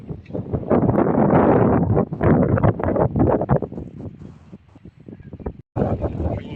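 Strong wind gusting across an open village dairy farm on a cold, sunless day, a loud, continuous buffeting roar on the microphone that dips briefly near the end before surging back.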